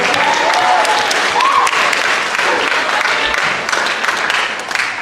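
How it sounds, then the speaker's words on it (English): Sustained applause from a school assembly crowd of eighth graders, steady and loud, tapering off slightly toward the end. "Give her a round of applause."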